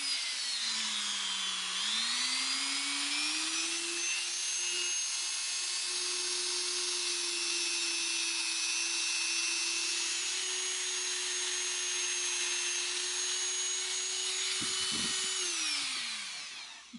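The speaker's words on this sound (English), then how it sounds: "I'm going to use my Dremel tool and I'm going to just clean that up" A Dremel rotary tool whines steadily for about fifteen seconds while cleaning up a metal pendant, spinning up at the start, holding a loud, even high-pitched drone, then winding down at the end.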